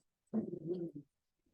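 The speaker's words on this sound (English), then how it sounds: "There's the dog." A dog gives one short whining vocalization, lasting under a second, close and fairly quiet against an otherwise silent room.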